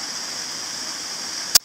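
Water pouring from a pipe into the wheel pit of an old powerhouse ruin, a steady hissing rush with a constant bright tone, ending in a sharp short knock near the end.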